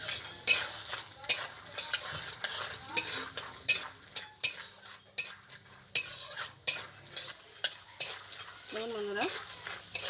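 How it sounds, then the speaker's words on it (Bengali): Peanuts frying in hot oil and ghee in a wok, with repeated sharp scrapes and clinks of a metal spatula against the pan over a low sizzle, close and steady. "এখন আমি বাদামগুলোকে ভেজে নেব।"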